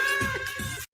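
A cat gives a single drawn-out, wavering meow close by, lasting nearly a second before cutting off abruptly.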